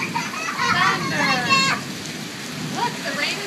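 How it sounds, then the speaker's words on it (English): Heavy rain patters steadily on surfaces during a rainstorm, a dense wash of drops running throughout while children talk and call out over it. "It's still raining hard"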